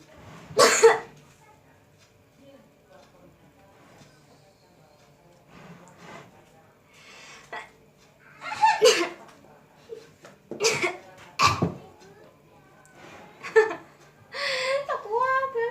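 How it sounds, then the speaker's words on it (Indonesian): A person coughs in several sharp, separate bursts spread across a quiet room, with faint vocal sounds in between. "Tak kuat batuk."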